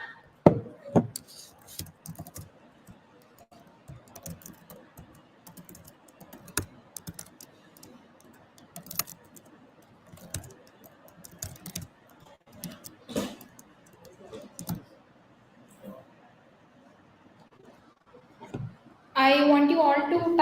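Computer keyboard typing during a beginner Bash scripting class: scattered clicking keystrokes with pauses, ending in a dense, louder burst of rapid typing, with faint voices in the background.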